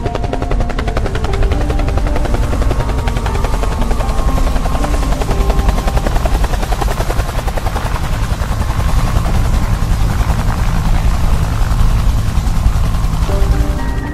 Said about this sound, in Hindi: पायलट गुल्ली बुल्ली की बात मान लेता है और हेलीकॉप्टर को काफी नीचे नीचे चला रहा होता है।